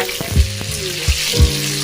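Cut potatoes with a spoonful of salt fry in hot oil, a steady sizzle broken by several scraping stirs of a spoon against the pan, close and clear with no voices.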